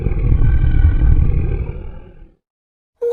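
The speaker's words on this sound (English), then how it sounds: "What's that terrible noise? Asks Beauty, The beast is coming." A beast's loud roar plays as a story sound effect, a deep rumbling growl lasting about two seconds that fades into silence, then a short burst of another sound starts at the very end.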